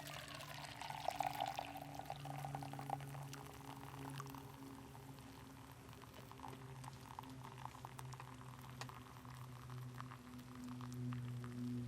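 Hot percolator coffee poured through a strainer at a campsite, a steady liquid stream with a low bubbling hum running throughout, fairly close and continuous with no talk.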